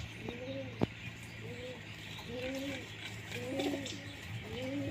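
Jack Madras pigeons coo close by in a steady series of soft, rounded calls at a relaxed rhythm, with a low constant hum behind them.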